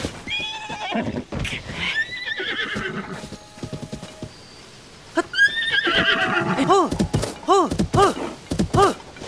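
Horses in Zelda: Tears of the Kingdom give several loud, close whinnies, a burst at the start and a rising run of repeated neighs near the end, mixed with clip-clopping hooves and brief thuds.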